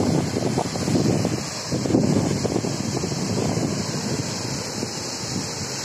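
Water rushes over Naugarh dam in the Chandraprabha wildlife sanctuary, a steady, loud broadband roar mixed with gusty wind buffeting the microphone, with no voices.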